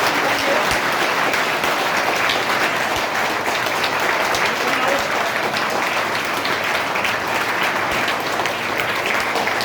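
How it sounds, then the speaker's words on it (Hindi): Steady, dense applause from a school audience honoring a student selected for a national award, continuous clapping filling the room at even loudness throughout. "तालियों की गड़गड़ाहट कुलदीप व्यास जी सम्मान कर रहे हैं।"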